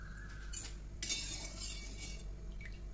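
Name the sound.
stirring boiling milk with a spatula in a pan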